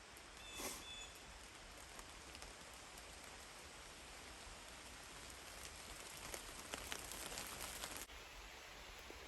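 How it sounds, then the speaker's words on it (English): Rain falls through a forest canopy as a steady, even hiss of countless drops, broad and moderately loud, with a few sharper drip spikes and a brief knock early on. "So it decided it's going to rain."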